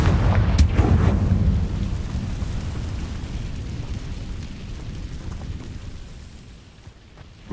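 Confringo fire spell blast in Hogwarts Legacy, a loud booming explosion at the start that rumbles and crackles, then fades into a long low roaring tail.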